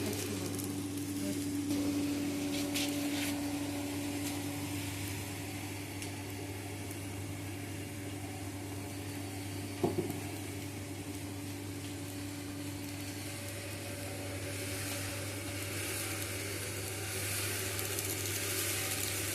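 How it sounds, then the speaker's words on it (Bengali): Native rice roasting in a home roaster machine makes a steady, continuous whirring hum with a faint sizzling hiss, plus one brief sharp knock midway. No one speaks. "দেশি চাল ভাজছে, তারপরে ছোলা ভাজবো।"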